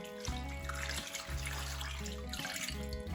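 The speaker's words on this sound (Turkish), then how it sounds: "Şimdi üzerine su ekleyeceğim" Water runs from a tap onto lamb marrow bones in a bowl, a steady splashing flow with a short break near one second and a brief dip toward the end, close and moderately loud.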